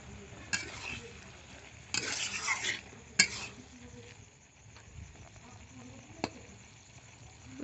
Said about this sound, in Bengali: এবার ঢাকা খুলে দেখে নেব সেদ্ধ হয়েছে কি তাই।